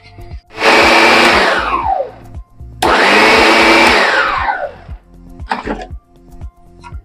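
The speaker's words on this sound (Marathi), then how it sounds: "हे आता आपण ही डाळ मिरची सहित वाटली" A mixer grinder coarsely grinds chana dal with green chillies, two loud sustained whirring bursts that wind down as the motor stops, followed by a short rattling run of the jar.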